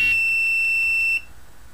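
A high electronic buzzer controlled by analog input values beeps in a quick series of short, evenly spaced pulses, then stops, leaving faint background hiss.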